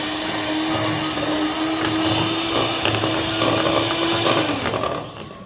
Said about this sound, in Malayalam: ഇനി നമുക്കിതൊന്ന് ഹാൻഡ് ബ്ലെൻഡർ ഉപയോഗിച്ച് ചെറിയ സ്പീഡിലൊന്ന് ബ്ലെൻഡ് ചെയ്യാം.